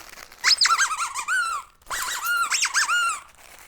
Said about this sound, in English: He loves toys like this that squeak.